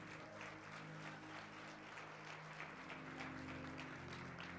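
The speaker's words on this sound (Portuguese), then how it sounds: "As palmas louvam o Senhor." A crowd claps steadily and continuously in a large room during a church service, with a low sustained musical tone underneath.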